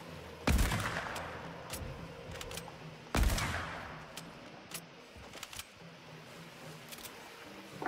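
Two loud, close blasts from the hunter pump shotgun in Fortnite ring out about three seconds apart, each with a sharp crack and decaying tail, separated by faint clicks and game noises.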